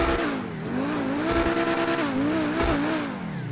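A modded car's exhaust revs in the video game GTA 5, its engine note rising and falling in repeated close, loud pulls with whining tones, alone without talk.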